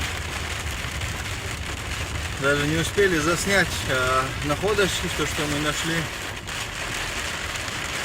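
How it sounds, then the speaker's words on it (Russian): Steady heavy rain drumming on a surface throughout, with a person speaking briefly over the downpour in the middle. "Дождь нехилый."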